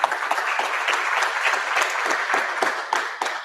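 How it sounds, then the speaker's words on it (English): Audience applause at a high school booster club meeting, a steady burst of clapping from a roomful of people lasting a few seconds, fairly close and even. "If y'all wouldn't mind giving them a round of applause."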